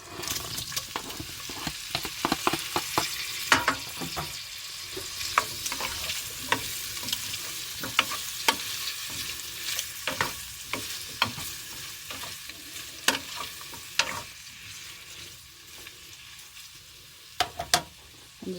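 Halved Brussels sprouts and cut bacon pieces fry in a pan, giving a constant close sizzle with frequent sharp clicks and scrapes from stirring all the way through, with no talking.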